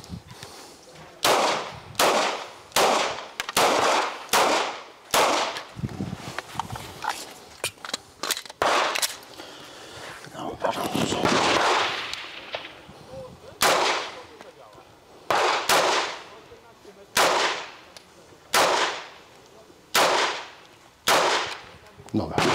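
Sharp Walther P99 pistol shots crack out at a shooting range in a steady series of single reports, loud and close, with brief pauses and some muffled talk in between.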